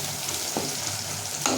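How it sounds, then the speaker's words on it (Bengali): Capsicum sizzles steadily while being stirred in a frying pan for sabudana pulao, with a couple of soft utensil scrapes against the pan and no voices. "এবার আমি এতে ক্যাপসিকামটা অ্যাড করে দেবো।"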